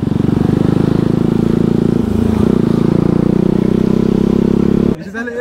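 A KTM Duke motorcycle engine roars steadily at high revs while riding fast, loud and close, with a sudden drop near the end as the throttle eases.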